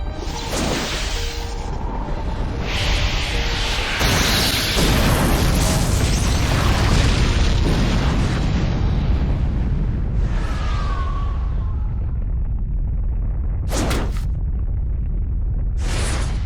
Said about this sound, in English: Be gone with the thunderclap.